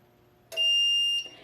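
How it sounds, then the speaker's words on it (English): A sublimation heat press signals the end of pressing with a single loud, shrill electronic beep lasting under a second, followed by a short fainter tone, over a quiet room. "Once it's done, it's of course going to beep very loudly"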